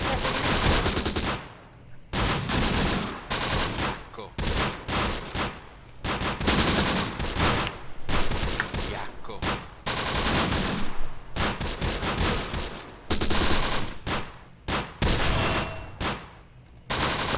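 Gunfire crackles in the WWII tactical game Close Combat: The Bloody First, with repeated machine-gun and rifle bursts separated by brief pauses, at moderate loudness and without talk.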